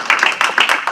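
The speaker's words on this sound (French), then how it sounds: "je vous demande encore d'applaudir très fort le docteur" An audience claps for a doctor at a conference, a quick run of close, bright hand claps in a brief steady patter.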